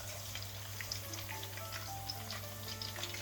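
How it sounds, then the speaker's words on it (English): Fresh-cut chips crackle in hot oil during a second frying, a soft, even sizzle with faint bubbling ticks, heard close but quiet, with no voices. "I will fry again. Get double fried chips is always beautiful and crispy."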